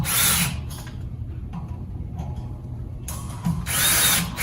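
Power tool driving screws during assembly of an Airmaster commercial fan, two short whirring bursts at the start and end with a quieter pause between them.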